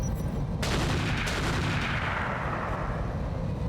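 Turrets open fire in the BattleTech game: a sudden loud blast after a brief lull, followed by a dense roar of continuous gunfire and explosions that slowly fades.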